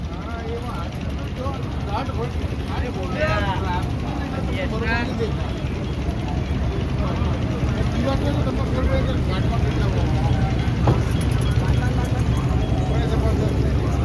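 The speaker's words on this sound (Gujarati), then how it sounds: "તો અત્યારે હેલ્પ માટે એક બોટ આવી છે." A motorboat engine on the Ganges at Varanasi gives a steady low drone that runs the whole time, with people talking over it.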